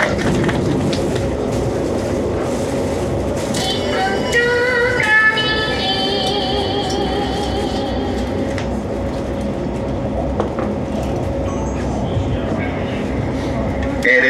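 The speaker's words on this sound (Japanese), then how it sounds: "列車は新幹線、京浜東北線、山手線と並走しながら、ただいま浜松町の駅を通過しております。" Train running alongside the Shinkansen, Keihin-Tohoku and Yamanote lines past Hamamatsucho station, a steady rumbling ride with passing rail clatter and brief higher tones, under an announcer's voice.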